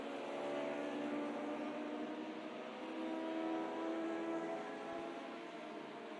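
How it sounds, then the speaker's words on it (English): A train of Formula Junior race cars streams past at Monza, a steady overlapping engine drone at moderate distance that swells and eases slightly as the cars keep coming. "And the train of cars just keep coming and coming on through."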